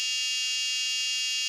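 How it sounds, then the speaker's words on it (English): A micro:bit magnet alarm buzzer sounding a steady, piercing high-pitched electronic tone that holds without a break throughout. "you hear the alarm and the angry face."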